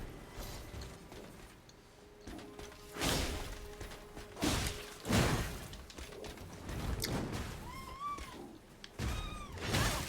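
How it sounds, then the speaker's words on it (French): A cat meows a few times in the background amid thumps and shuffling movement, its rising cries somewhat faint but distinct. "On entend mon chat derrière."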